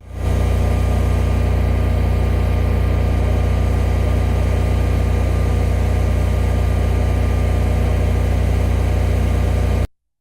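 A competitor's home standby generator, recorded during a sound test, runs alone at a steady, loud, constant drone with a strong low hum for about ten seconds, then cuts off abruptly.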